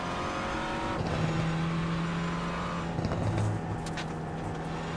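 Renault Clio race car lapping the Nurburgring, a steady engine drone with a sustained gear whine, shifting engine tones and faint tire noise, heard alone without talk.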